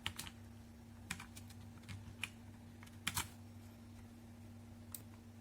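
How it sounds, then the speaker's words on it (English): Keys tapped out a code on a computer keyboard for a Tenda 4G680 v2 4G LTE router, as a handful of irregular, quiet clicks over a steady low electrical hum. "So I need to type in this code."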